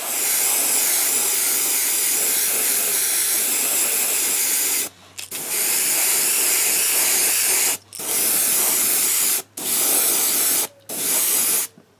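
Spray paint coats a fishing lure in a loud, close, continuous hiss, broken by a few short pauses as the nozzle is released and pressed again.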